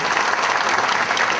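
Applause at a volunteers' evening, a brief burst of steady, dense clapping from an audience in a hall, loud and continuous throughout.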